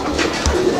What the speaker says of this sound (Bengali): দেখেন এগুলো ভাই কবুতর, মন জুড়ানো কবুতর